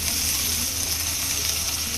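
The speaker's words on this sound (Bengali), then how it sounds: "এখন আমি দিয়ে দিব কাঁচামরিচটা একটু তেলে পেঁয়াজের সাথে" Green chilies fry in hot oil with onions, giving a steady, even sizzle and hiss that is close and fairly loud with no pauses.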